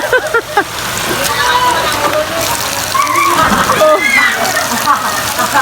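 People bathing and splashing in water outdoors, a steady wash of splashes and sloshing close by, mixed with shouting voices and chatter throughout.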